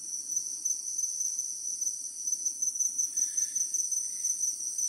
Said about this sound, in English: Stop and listen to the sound of the rainforest, and you'll soon realise you're not alone.